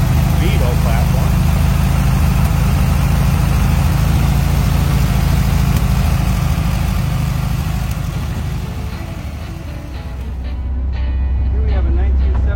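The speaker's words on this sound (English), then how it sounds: "We came off that high idle. Idle's down a little bit." A 1977 Bremen Mini-Mark on a Volkswagen Beetle platform idles steadily after coming off high idle, a loud, low engine rumble under someone talking, with wind buffeting the microphone.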